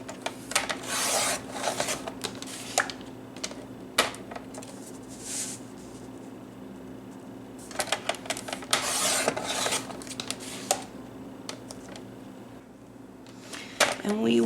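Paper or card being cut and handled while making a composition book cover, with scraping, rubbing and shuffling sounds in irregular bursts at close range.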